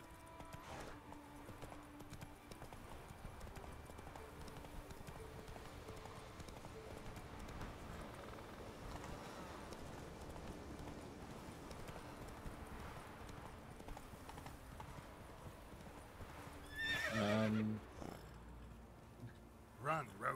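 Roach the horse galloping in The Witcher 3, a steady clip-clop of hooves running continuously under game ambience, with a louder burst near the end.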